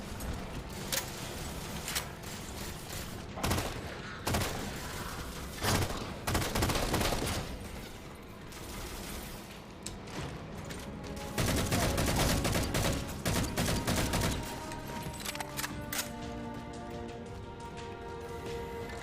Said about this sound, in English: the assault rifle seems to pack a stronger punch